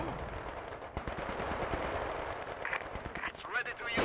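Rapid rifle and machine-gun fire crackles without a break through a World War II battle in the video game Company of Heroes. Dense bursts sit over a rumbling, cluttered battlefield, and voices are mixed in.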